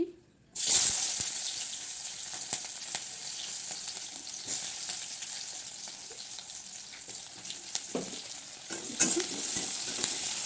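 Chopped onions sizzling and frying in hot oil for a village-style fish curry, a steady broadband hiss with occasional stirring scrapes and louder bursts near the end, no voices.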